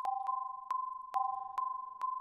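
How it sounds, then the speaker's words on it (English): Ring-modulated SuperCollider synth with a long decay, a steady two-tone electronic drone pulsing in a regular wobble, with sharp percussive clicks punctuating it at even intervals, alone and fairly loud. "we'll modify X to have a longer decay and apply some ring modulation with a low frequency sine wave"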